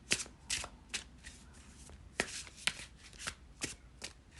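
Tarot cards are shuffled by hand in the traditional overhand way, giving a steady series of soft, crisp riffling bursts at close range in a quiet room.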